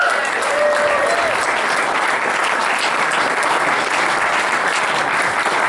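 A live arts-festival audience in Perth applauds Richard Dawson with a dense, steady wash of clapping that holds loud and even throughout, with no talk over it.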